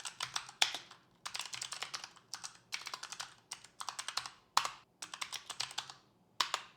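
Linux command typed on a computer keyboard: quick bursts of close, crisp key clicks in several rapid runs separated by short pauses, with no voices.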